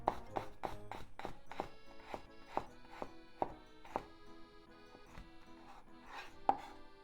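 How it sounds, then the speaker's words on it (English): A knife cuts frozen garlic cloves into thin slices on a board, tapping out quick, crisp, evenly spaced strikes, close and moderately quiet, with a faint hum behind. "Let's just make thin slices."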